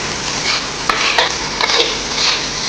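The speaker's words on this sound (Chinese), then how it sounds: "这样子的饭就炒得粒粒分明" Rice stir-frying with zhubacai greens in a wok: a loud, dense, continuous sizzle and crackle with scraping spatula strokes and occasional sharp metallic taps, close up.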